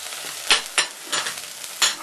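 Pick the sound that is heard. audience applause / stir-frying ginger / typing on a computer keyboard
stir-frying ginger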